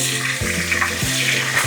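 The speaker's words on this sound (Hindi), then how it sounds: "अब हम इसको अच्छे से भून लेंगे।" Ginger, garlic and chili paste frying with cumin makes a steady close sizzle under a low humming drone, broken by three regular spoon sweeps through the pan, and no one speaks.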